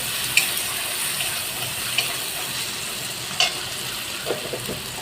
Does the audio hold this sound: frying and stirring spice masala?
yes